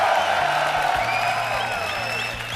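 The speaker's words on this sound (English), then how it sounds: "If you're a fan of EG Idra in the crowd, make some noise for" A StarCraft II MLG event crowd cheering for EG Idra, a broad steady roar of applause and whoops filling the hall, while an announcer's amplified voice talks over it.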